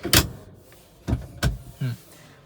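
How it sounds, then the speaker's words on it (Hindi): Several short bursts of a driver's power seat adjustment motor whirring, spaced apart, close by in the quiet interior of a Honda Elevate VX Apex Summer Edition. "जो ड्राइवर साइड की सीट है उसको मैं अपने हाइट के हिसाब से एडजस्ट कर लेता हूँ"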